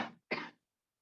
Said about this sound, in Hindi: पता नहीं इतना खांसी क्यों हो रहा है यार हमको